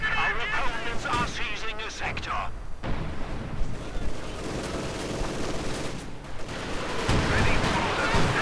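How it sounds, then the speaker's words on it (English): A Katyusha rocket artillery barrage in Company of Heroes 2 fires on German positions, with dense, rapid rumbling launches and explosions rolling continuously under a commentator's voice. "There we go, Katyusha barrage, firing straight into German positions."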